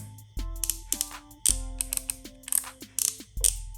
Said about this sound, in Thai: ตัวนี้สามารถปรับฟันได้นะครับ ปรับ ปรับลงมาจะมีเสียงนะครับ